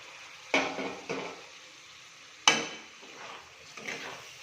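Mattar paneer curry ingredients with green peas mixed in a pan, four distinct spoon scrapes and clanks against the metal, each fading quickly into a quiet background.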